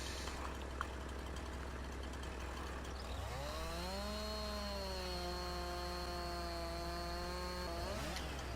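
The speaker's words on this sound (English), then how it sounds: "I'm going to cut this tree down with the chainsaw" A Farming Simulator 19 chainsaw felling a tree in the forest, a steady engine whine that rises in pitch and holds as the blade bites, continuous and fairly loud with no talk.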